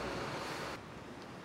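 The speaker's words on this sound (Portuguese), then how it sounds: "o nosso baião já está fervendo" A pot of baião de dois rice and beans at a boil gives a steady, close, rushing bubbling hiss that softens partway through, with no one talking.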